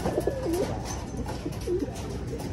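Pigeons coo in low, rolling phrases on a loft landing board, two or three calls repeating nearby over a steady outdoor background.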